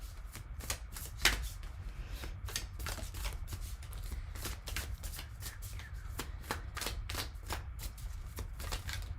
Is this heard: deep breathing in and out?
no